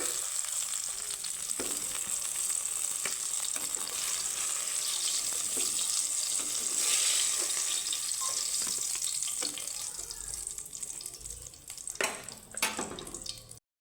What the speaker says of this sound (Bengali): একটু লাল লাল করে ভেজে নেবে দেখো বেগুনগুলো